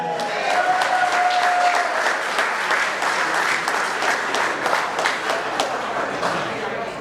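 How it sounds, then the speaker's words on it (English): Audience at a hometown meet-the-candidates event applauding a candidate, steady dense clapping from a sizable crowd with some voices talking under it throughout. "Be brief and get your applause and get off the stage."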